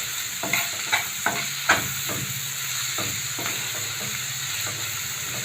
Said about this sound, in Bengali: পেঁয়াজের সাথে এগুলো তেলের উপরে ভালো করে ভেজে নেব।